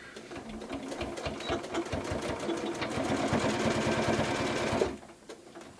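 Sewing machine stitching a quilted tissue box cover, a steady rapid rhythmic whirring and needle clatter close by that speeds up slightly, then stops abruptly near the end.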